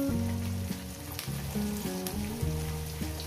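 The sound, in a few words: chopped onions frying in pan for fish curry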